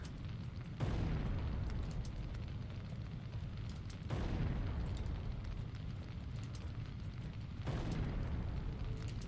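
Grenade blasts in the Syphon Filter video game, three deep booming explosions with long rumbling tails, each arriving a few seconds apart and filling the low end loudly.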